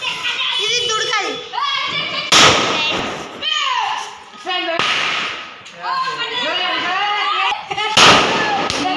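Lakshmi bomb firecrackers go off in three sharp, loud bangs spaced several seconds apart, with children chattering and calling out throughout.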